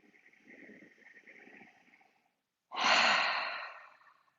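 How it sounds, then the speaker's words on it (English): Someone in a gentle yoga session draws a soft, faint breath in through the nose, pauses briefly, then lets out one louder, breathy exhale through the mouth, close and alone. "we might breathe in through the nose and out through the mouth"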